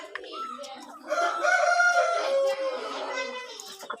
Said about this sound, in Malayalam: നാടൻ കോഴിക്ക് അട വിരിയിച്ച കോഴിക്കളാണിത്.